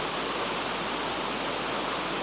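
Water flowing steadily outdoors, a dense, even rushing wash like a stream or small cascade, close and continuous with no voices.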